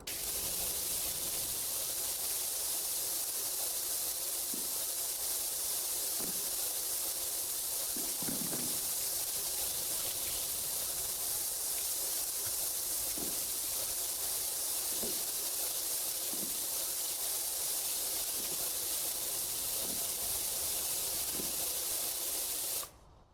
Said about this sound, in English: That's what a good piss sounds like.